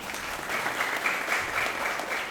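An audience at a Krishna consciousness lecture claps together in a steady, dense round, a sustained wash of many hands at moderate distance with no voices over it.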